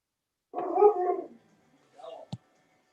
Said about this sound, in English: Sounds like we have a dog there.